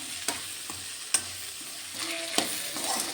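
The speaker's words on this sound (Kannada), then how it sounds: "ಸೊ ಅದಕ್ಕೋಸ್ಕರ ಕ್ಯಾಪ್ಸಿಕಮ್ನು ಮುಂಚೆನೇ ಹಾಕ್ಕೊಂಡು ಬಾಡಿಸ್ಕೊತಾ ಇದ್ದೀನಿ ನಾನು" Capsicum sautés in a pan for avarekalu capsicum chitranna, giving a steady close sizzle. A few sharp spatula knocks and scrapes sound against the pan, with no talk.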